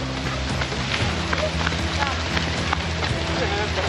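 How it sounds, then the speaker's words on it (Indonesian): Heavy rain pours in a steady, dense hiss, with people talking over it. "Hujan rekan-rekan ya. Hujan."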